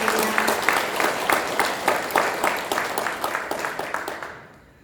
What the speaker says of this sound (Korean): 함께 축하의 박수로 기쁨을 나누겠습니다